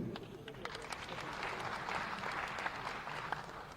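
An audience claps loudly at a government launch event for a groundwater mission, a dense, sustained burst of applause lasting a few seconds without pause.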